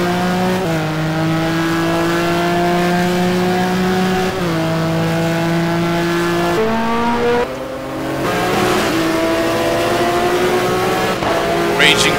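Several GT1 race cars lap Sebring in a racing video game, engines droning loud and steady with gear-change pitch shifts and passes, while a commentator talks over them throughout.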